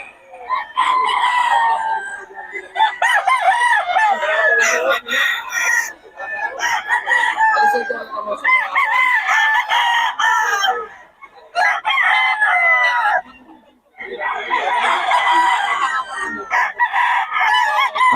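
Several gamecock roosters of Hatch and Lemon Sweater lines crow in repeated, overlapping bursts close by, with clucking between calls and no pause longer than a moment across the stretch.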